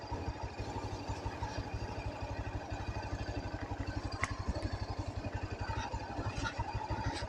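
A motorcycle engine labours with a steady low rhythmic chug and clatter while descending a rough, difficult slope on a rural ride, close and continuous with faint sharp knocks over the top.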